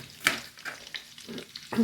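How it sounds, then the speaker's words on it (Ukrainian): Meat fries in a pan with soft sizzling and crackle, close by, with a few light stirring scrapes and no talking. "Поки смажиться м'ясо, я ріжу цибулю."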